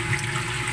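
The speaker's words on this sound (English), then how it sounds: "The water flow also is fast. So we are rinsing the resin right now." Steady, fast-flowing water during a water softener backwash as the resin is rinsed, a continuous rushing wash with no pauses.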